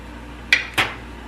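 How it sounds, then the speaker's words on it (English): A metal lid is lifted off a pot of boiling water while cooking pasta, giving two quick, close metallic clanks about a quarter second apart over a low background hum. "get this lid off of this boiling water"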